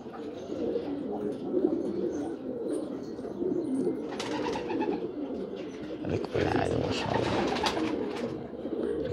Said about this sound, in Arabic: هاي الحمام عليت صارت بالعالي